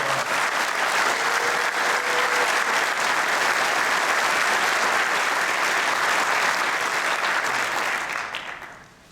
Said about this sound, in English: Give them a round of applause before we start.